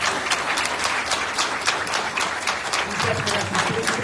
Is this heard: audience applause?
yes